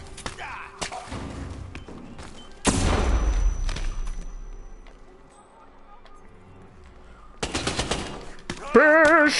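Machine gun fire in Hitman 2, a few loud rattling bursts separated by quieter stretches, with heavy thuds and a voice briefly heard near the end.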